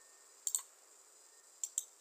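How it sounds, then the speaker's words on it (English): Two quick pairs of sharp, light computer mouse clicks sound close against faint background hiss while duct sizing software is opened on screen. "So simply click on this."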